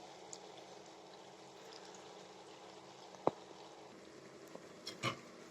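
Palm (taal) pitha fritters deep-frying in hot oil, giving a faint, even bubbling hiss that holds steady, broken by a couple of sharp clicks and a brief utensil clatter near the end.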